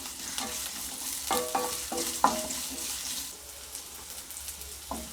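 Gentle sizzling of small onions sautéing in a pan for brinjal fry, with occasional clinks of a utensil stirring, fairly quiet and steady.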